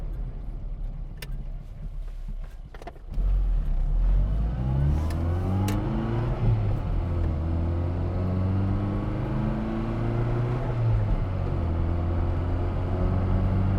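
A Classic Mini's 40-horsepower engine pulls uphill past 50 mph, starting at a low idle-like rumble before a sharp jump into a steady, buzzy drone whose pitch climbs and dips through gear changes, close and continuous.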